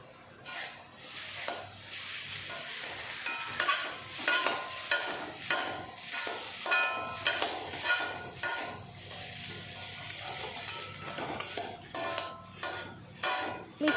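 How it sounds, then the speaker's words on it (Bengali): A spatula stirs egg chowmein tossed with tomato sauce in a hot pan, giving repeated scraping strokes over a soft background sizzle, with occasional light clinks of metal on the pan. "টমেটো সস দিয়ে এখন আবারও মিশিয়ে নেব।"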